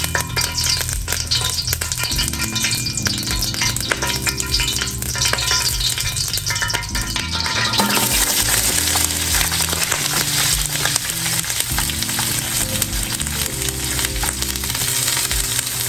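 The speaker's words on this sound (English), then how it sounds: "So we're gonna put garlic in here, our onions, and our jalapenos." Garlic, onions and jalapenos sauteing in a hot pan for salt and pepper wings, a steady loud sizzle and crackle with stirring scrapes running throughout, no talking.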